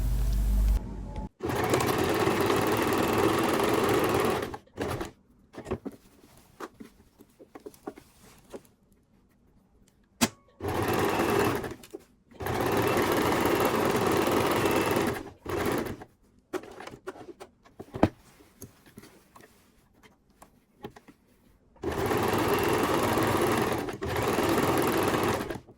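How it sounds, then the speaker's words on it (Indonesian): A sewing machine stitching the lining of a men's trouser pocket runs in several long steady bursts of fast whirring stitches, close and clear, separated by quieter pauses with faint handling noises. "Setelah itu baru kita jahit di keliling sini."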